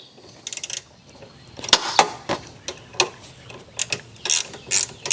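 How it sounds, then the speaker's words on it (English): Ratcheting clicks from a 10mm wrench loosening the negative battery terminal on a 2013-2021 Lexus GX460, heard as close, bursty runs of sharp metallic ticks with short pauses between strokes. "we're going to go ahead and take off the negative battery side with just a 10mm wrench"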